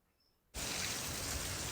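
Near silence, then a sudden loud onset of heavy rain falling in big drops, a dense steady hiss that continues.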